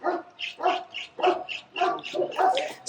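Dogs barking outdoors, a run of about ten sharp, evenly spaced barks close by, loud and alone with no talk over them.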